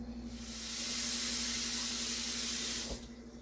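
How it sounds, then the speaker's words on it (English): Chopped cabbage being rinsed under a running tap, a broad steady hiss of spraying water that starts at once, holds for about three seconds and then cuts off, close and loud, with no speech. "I'm going to get the rest of this chopped and rinsed."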